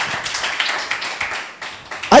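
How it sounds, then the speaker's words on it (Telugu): A church congregation at a communion worship service claps hands in praise, with scattered overlapping claps throughout and a louder burst at the end. "చప్పట్లు కొట్టి దాన్ని స్తుతిద్దాం."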